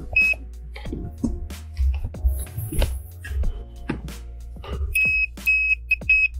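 Short high-pitched electronic beeps from a continuity tester during an RV battery charger repair, a single beep early and then a rapid series of repeated beeps near the end, over handling clatter and light hum.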